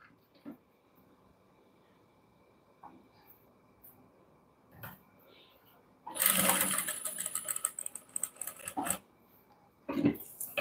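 An electric sewing machine stitches a blouse seam. It starts after a few quiet clicks and handling sounds, runs loud and close for about three seconds, then gives a shorter burst.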